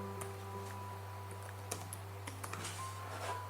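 A password being typed on a computer keyboard, quiet scattered key clicks in an irregular rhythm over a low steady hum.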